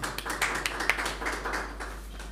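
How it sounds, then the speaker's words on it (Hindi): Hall audience claps at an awards ceremony, a moderate, evenly spread patter of hands at medium distance over a low electrical hum, with no talking. "जोरदार तालियों से इनकी हौसला अफजाई करें"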